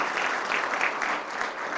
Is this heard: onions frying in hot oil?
no